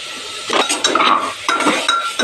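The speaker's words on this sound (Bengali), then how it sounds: "সাথে ভেজে নেবো আদা রসুনের সাথে পেঁয়াজ দেবো এর মধ্যে" Chicken is fried in a pan with ginger, garlic and onion, a metal spatula scraping and clinking against the pan in uneven bursts of stirring, with only a faint sizzle beneath.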